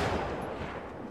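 Gunfire in the video game The Last of Us Part II, a muffled, fairly quiet burst of shots that blurs into a rumbling roll before fading.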